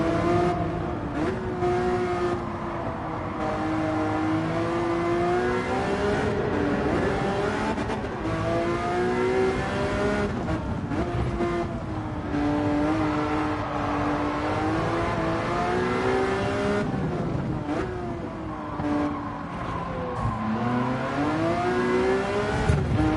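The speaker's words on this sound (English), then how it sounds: "Sounding engine." Engine of a car in Gran Turismo 7 revs and climbs steadily for the full stretch, loud and close, with rising and falling pitch sweeps as it accelerates through gears.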